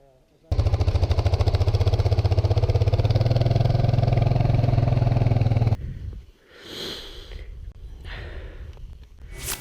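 A motorcycle engine starts and runs in a steady loud drone while stuck in a Moroccan sand dune, then cuts out abruptly, leaving breathy sounds and faint movement.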